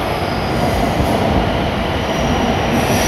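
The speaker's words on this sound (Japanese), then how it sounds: "列車の到着しましたが" A Hokuriku Shinkansen E7 series train arrives at track 11 of Kanazawa Station, giving a loud, continuous rumble of rolling wheels with faint squeals, heard close up on the platform.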